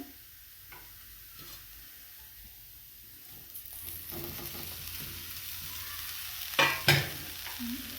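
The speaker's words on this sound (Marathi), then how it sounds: "आता हे सोयाबीन आपण इकडे पॅनमध्ये घालायचे आहेत इकडे आपला मसाला भाजून झाला" Soybean chunks hit a pan of roasted masala and are stirred, a faint low sizzle that swells midway, then a couple of sharp, louder bursts of hissing and scraping near the end.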